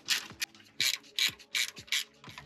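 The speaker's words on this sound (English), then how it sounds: "in my case, a ratcheting wrench" A ratcheting wrench undoes bolts on a Toyota Tacoma brake line, making about six quick, close, crisp ratchet clicks in a steady back-and-forth rhythm over a couple of seconds.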